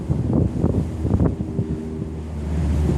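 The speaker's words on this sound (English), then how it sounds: "There's something soothing, maybe universally soothing about the ocean." Wind gusting and waves washing at the seaside on a sunny spring day, a steady close rumble with soft surges of surf, no voices.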